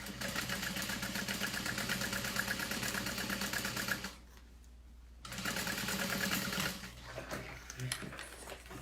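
Sewing machine basting along the top edge of a fabric wallet, a fast, steady mechanical whir with rapid stitching ticks that cuts off for about a second, then resumes and trails into quieter handling noises.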